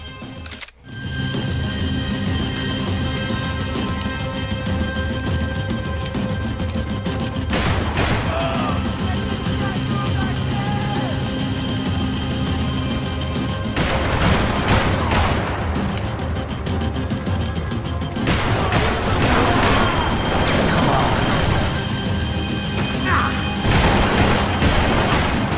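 Gunfire in the video game Max Payne 3 crackles in repeated bursts, with sharp loud shots and booms spaced across a continuous, busy backdrop of in-game noise.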